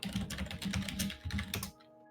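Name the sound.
typing on a computer keyboard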